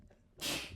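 A single sharp sneeze bursts out near the microphone, short and loud, after a moment of quiet room noise during a casual group conversation.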